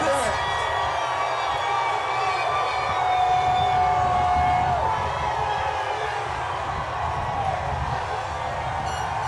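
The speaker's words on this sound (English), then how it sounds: "How excited is this crowd" A huge crowd of Oklahoma City Thunder fans roars at an NBA championship parade, a dense continuous cheer with horns or sirens wailing through it and a voice talking over the din.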